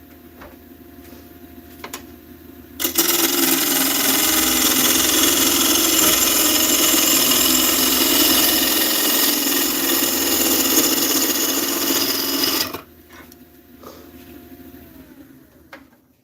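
Wood lathe turning a swamp ash bowl, a loud steady broadband cutting roar that begins abruptly after a quieter hum, holds for about ten seconds, then cuts off back to the low motor hum.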